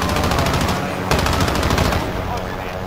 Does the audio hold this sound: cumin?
no